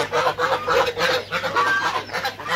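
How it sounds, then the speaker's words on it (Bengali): Black Campbell laying ducks call out close by in quick, repeated quacks in a steady rhythm, with no voices. "আর এই যে আমাদের যে ব্ল্যাক ক্যাম্বেল হাঁসগুলো, এগুলো সবগুলোই রানিং ডিম পাড়া"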